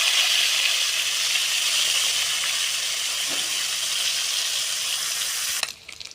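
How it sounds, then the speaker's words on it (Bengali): Moka fish lightly frying in hot oil, giving a steady, dense sizzling hiss that holds evenly for several seconds before cutting off abruptly near the end. "বন্ধুরা প্রথম মকা মাছে হালকা করে ভেজে নেব।"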